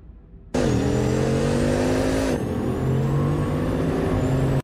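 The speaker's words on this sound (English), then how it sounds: "this work of art is capable of pummeling the pavement at over 200 miles per hour, thanks to a 16-cylinder engine" A 2022 Bugatti Chiron with a 16-cylinder quad-turbo engine roars past at speed, a loud sustained drone that rises and then drops in pitch as it passes, with no other sounds.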